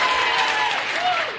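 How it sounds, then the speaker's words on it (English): An audience claps for researcher Kate McManus at a live podcast taping at Dragon Con, a steady, dense wash of applause filling the whole moment, with a few voices calling out beneath it. "You can clap for Kate."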